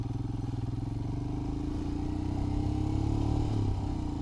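A Royal Enfield Himalayan motorcycle rides along a street, its single-cylinder engine thumping rhythmically and close, pitch rising briefly as it accelerates, no talking.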